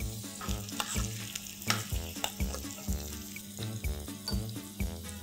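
Chana dal, urad dal and finely chopped ginger sizzling in hot oil for a tempering, a close crackling fry with rhythmic stirring scrapes and clinks against the pan, no voices.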